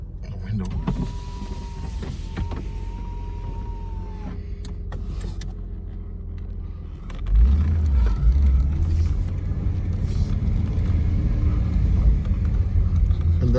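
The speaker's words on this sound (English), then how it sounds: "If you want to listen to the engine" A Chevrolet 250 six-cylinder car engine runs steadily as a power window opens, the window motor whining alone for several seconds before the engine rumble swells louder and closer once the glass is down.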